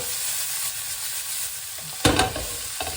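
Noodles fry with onions in a pan, making a steady hissing sizzle throughout, with a louder burst of crackling and stirring near the end, close and prominent, and no speech.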